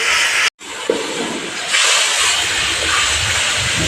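Chili powder, turmeric and salt sizzle in hot oil for a fish kalia, giving a steady loud hiss with a brief break near the start, then louder frying to the end.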